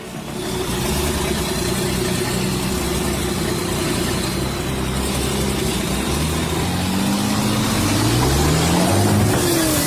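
A tractor engine strains to pull a heavy truck across a narrow bridge, a loud steady mechanical drone with a changing pitch toward the end, and no talking.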